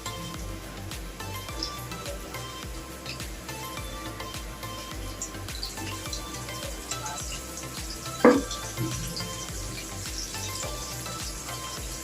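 Potato pieces sizzle steadily in hot oil in a pan with salt, turmeric and Kashmiri chili powder for a mutton curry, a continuous crackling fry broken by one sharp metal utensil clank partway through, with no talk.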